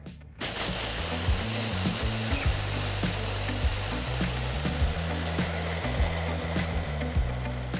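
A mini food processor grinds pet food into fine powder, whirring continuously, with rattling and clicking mixed into its steady motor drone.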